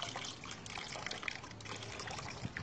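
Water trickles and pours from an LPG gas cylinder into a basin, a faint, steady splashing dribble heard close by with no talk.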